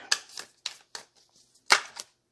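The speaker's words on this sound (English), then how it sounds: "I'm going to give it a good shuffle." Tarot cards being shuffled by hand: a few sharp riffling bursts with short pauses between, fairly close and moderately loud, with no talking.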